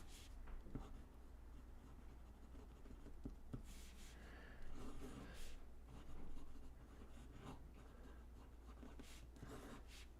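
Fountain pen filled with Diamine Sargasso Sea ink writing on paper, a soft, steady close-up scratching with brief pauses between strokes.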